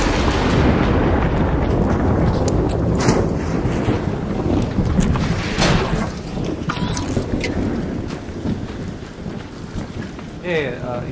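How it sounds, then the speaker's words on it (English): A loud rolling rumble of thunder from a nearby storm builds and fades over several seconds, with wind noise and occasional speech. "Grom."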